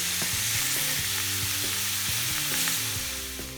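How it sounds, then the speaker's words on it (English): Ground meat browns in a pan for spaghetti meat sauce, giving a loud, steady sizzle with scraping and stirring clatter running through it and no talking. "Since the meat is browning"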